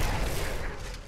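Dense, booming blast effect from the funeral explosion skill in Diablo 3, a roughly one-second burst of thick, crackling explosions that stays loud throughout, with no talk over it.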